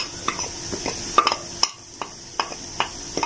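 Onions frying with cumin, black pepper and spices in a pan hiss softly under a series of sharp utensil scrapes and taps as they are stirred at an irregular pace.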